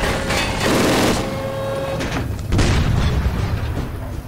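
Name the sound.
explosion from tank shot in Mafia 2 video game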